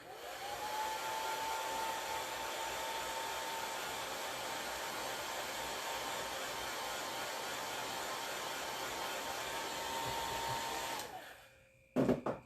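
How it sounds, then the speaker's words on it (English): A hair dryer blows steadily on a wooden craft piece, a loud continuous whir with a faint high whine, running for about eleven seconds before shutting off, followed by a couple of small handling knocks. "I'm going to blow dry it a little bit"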